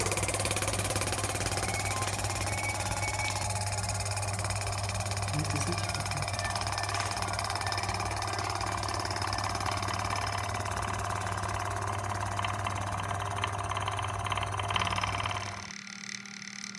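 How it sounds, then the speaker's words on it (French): A steady mechanical vacuum pump drones and rattles continuously with a low hum while emptying a bell jar, then cuts off abruptly near the end. "on mettra la machine et du coup ça fera le vide dans la cloche"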